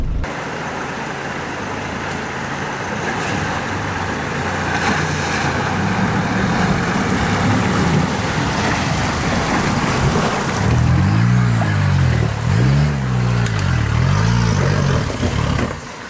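A 4x4 micro van in four-wheel drive crossing a shallow water ford, with engine drone and sloshing water throughout, rising into rhythmic, surging low revs toward the end as the vehicle labours through.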